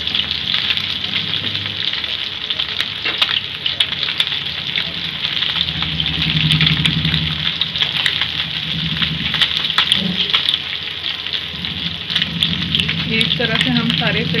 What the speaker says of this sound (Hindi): अच्छे से क्रिस्पी फ्राई होने तक इसे फ्राई करेंगे।